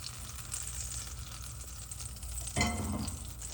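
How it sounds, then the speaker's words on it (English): Butter melting in a pan on the stove gives a soft, steady sizzle and crackle, quiet throughout, with a slightly louder burst of frying near the end. "Now that our butter is melting"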